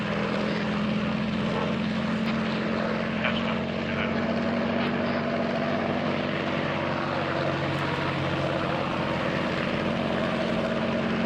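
A propeller-driven WWII fighter plane drones steadily and loudly in a North African combat game, its engine hum holding constant with no talk over it.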